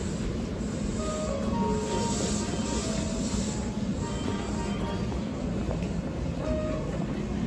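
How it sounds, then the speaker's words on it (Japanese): A Hankyu Kobe Line electric train rolls into a station platform with a steady loud rumble and hiss, faint tonal squeals riding over the drone. "まもなく1号線に神戸三宮方面に向かう電車が到着します。"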